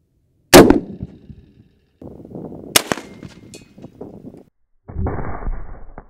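A .50 BMG rifle fires a 1952 round at a concrete Jersey barrier, with a sharp, loud blast followed by a decaying echo. A second crack and scattered impacts come after it, all outdoors with no talk.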